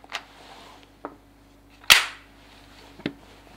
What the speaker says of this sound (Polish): Teraz rozładuję pistolet